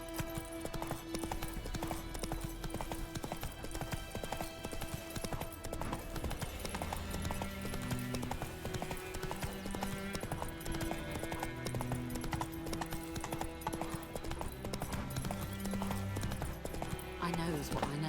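Roach, Geralt's horse in The Witcher 3, moves at a steady rhythmic clip-clop of hooves. Game music plays over it and talk runs alongside.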